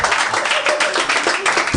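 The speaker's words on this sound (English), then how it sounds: "Let's hear some claps." Audience applause and clapping fill a stand-up comedy show, a dense, loud, steady patter of many hands with no break and no voice above it.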